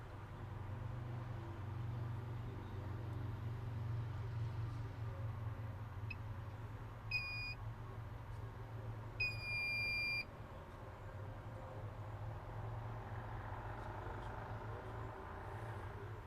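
An 8-port valve module beeps during a software update, giving two short bursts of high electronic beeps over a steady low machine hum, with no other sounds.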